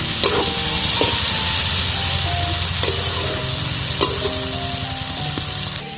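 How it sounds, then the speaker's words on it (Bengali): Eggplant and neem flowers fry in a pan with a steady, close sizzle and a few sharp utensil knocks, while a faint tonal hum runs underneath. "বেগুনটা কিন্তু সেদ্ধ হয়ে গেছে এবার একটু লালচে করে ভেজে নিলেই আমার তৈরি হয়ে যাবে নিম বেগুন ভাজা"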